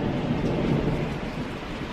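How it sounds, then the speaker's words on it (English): Thunder rumbles through a thunderstorm, a deep, sustained roll mixed with steady rain hiss, loud and continuous with no speech over it. "I don't know if you can guys hear that thundering."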